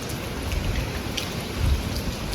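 Steady, hissing rain pouring down at night, dense and continuous, with low rumbling gusts underneath.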